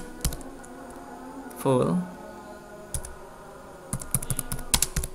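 Fingers type network configuration commands on a computer keyboard in short clusters of clicky keystrokes, with a spaced single key tap, while someone talks over the typing.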